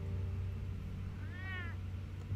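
In the Batman Telltale video game, a cat gives a single short meow, heard faintly over a steady low hum of background noise.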